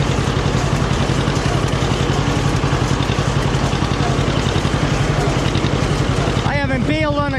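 A John Deere 50 tractor engine runs at a steady idle with an even, close chugging rhythm, with someone speaking over it near the end.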